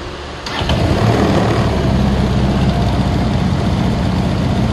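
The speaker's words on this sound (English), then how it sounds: "The bike is back together. I'll switch it on for you guys." A motorcycle powered by a jet ski engine cranks briefly and catches, then settles into a steady, loud, close running drone with no talking.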